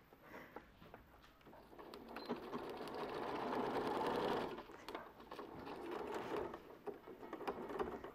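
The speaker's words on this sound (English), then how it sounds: "I often use a zipper foot to go over that triangle" Nearby, a sewing machine fitted with a zipper foot runs through thick, lumpy quilt fabric for a bomber jacket, humming in a steady burst that swells, pauses briefly, then resumes, with faint clicks between.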